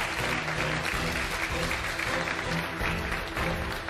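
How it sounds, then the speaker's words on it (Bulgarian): Restaurant guests in a dining room applauding the chefs, a full, steady round of clapping from a seated crowd with a murmur of voices underneath, continuing evenly throughout. "Аплодисменти за моите готвачи."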